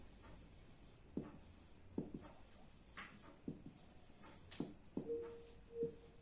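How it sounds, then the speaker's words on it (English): Chalk or marker strokes on a classroom board make a series of faint, irregular taps and scratches, spaced about a second apart, in a quiet room. "let me write the definition"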